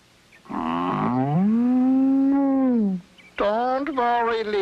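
Lena, a cartoon blue cheese cow, lets out two long, loud moos in a row, the first drawn out and the second shorter, with a brief pause between them and no other sound.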